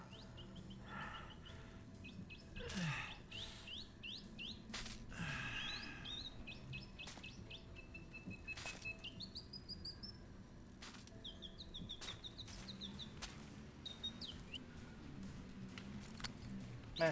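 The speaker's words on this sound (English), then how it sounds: "I still hear the mechanical bird." Mechanical bird chirping in a horror video game, with repeated quick metallic chirps and trills scattered across a quiet, faint background hum, some clicks and thuds in between.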